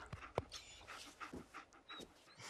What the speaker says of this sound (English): Alright, so we got a dog now.